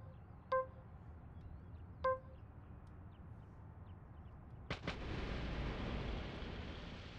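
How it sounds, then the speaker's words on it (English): In the video game Deadly Premonition, two short pops ring out a second and a half apart, then a louder blast gives way to a low rumble that lingers. "The explosions are so underwhelming."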